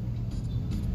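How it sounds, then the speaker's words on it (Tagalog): Cars idle and creep through heavy street traffic in a jammed city area, a steady low engine rumble close by with a faint hiss of passing vehicles. "Na-stuck po kami sa traffic dito"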